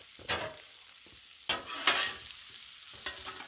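Pierogi, kielbasa and cabbage sizzle steadily on a Blackstone griddle, with a few sharp scraping strokes of a spatula over the continuous frying hiss.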